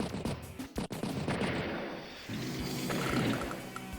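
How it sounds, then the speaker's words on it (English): A Neo tank attacks a medium tank in Advance Wars: a sharp cannon-like blast with crackling impacts at the start, then a rumbling explosion tail that fades into game music. "Neo tank does strike the medium tank"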